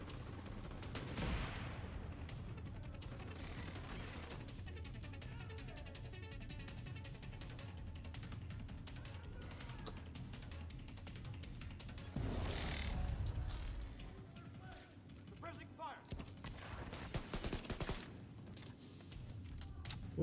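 Video game gunfire crackles in quick bursts and volleys, with louder clusters of shots near the middle and end over a busy, mechanical backdrop.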